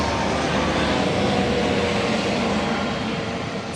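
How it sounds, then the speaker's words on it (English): A broad, steady roar of a helicopter passing overhead fills the whole stretch, loud and constant, easing slightly toward the end, with no voices. "there's a helicopter"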